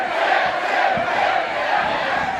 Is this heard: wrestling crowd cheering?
yes